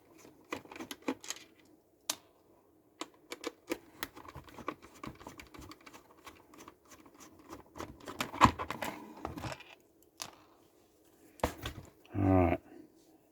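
A 1:24 scale Welly NEX model car being worked free of its cardboard backing, with a run of close, sharp clicks, taps and scrapes spread over the stretch and a brief louder rustle near the end.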